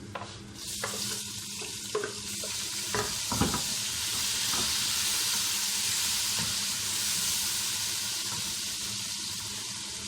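Steady sizzling as tomatoes fry in a hot pan with ginger and garlic, with a few clinks and stirring scrapes early on; no talking.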